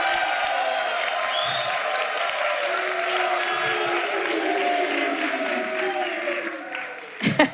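An audience applauds an orchestra at an outdoor concert with a steady wash of clapping and crowd noise that holds throughout, then dies away near the end.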